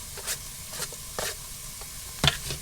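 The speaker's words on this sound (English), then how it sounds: "let's give this a stir. I'm just going to cook this off for a few minutes." Food cooking in a pan is stirred, with several scraping strokes over a faint continuous sizzle and one louder clatter near the end; no voices.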